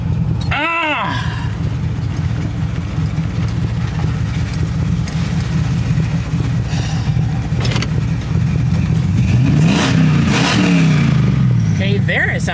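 Chevrolet S10 pickup with a swapped LS V8 running on all eight cylinders, a steady deep engine rumble throughout, with a brief rev or passing whine near the start and rising tone toward the end.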